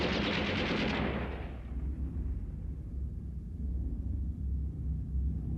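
Gunfire from the 1988 anime film Appleseed, a burst of rapid shots fading into a low rumbling tail, heard at moderate level in a film soundtrack with no talking.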